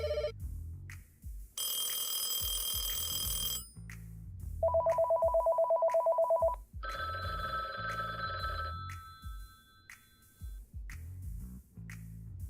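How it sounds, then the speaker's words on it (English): A telephone rings in several distinct bursts, including a pulsing electronic trill and a steady tonal ring, fairly clear against a quiet background with no talk. "Let me make a few phone calls"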